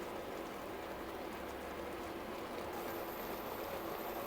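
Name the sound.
liquid boiling in a pot for apple and sultana filling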